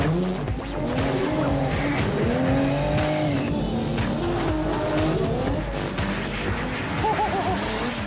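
A new front-engined, rear-wheel-drive Toyota Supra drifts with loud, sustained tire squeal and howling engine revs rising and falling close by, the wailing skids continuing without break.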